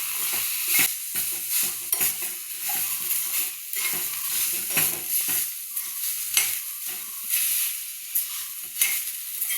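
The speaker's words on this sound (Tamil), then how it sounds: "இதை போட்டு அப்படியே வதக்கிட்டு அரைச்ச கிரேவி கணக்கில் இருக்கும்." Chopped tomato is stirred and sautéed in a pan, with a continuous sizzle broken by repeated, uneven scraping strokes of a spoon, close and fairly loud with no talk.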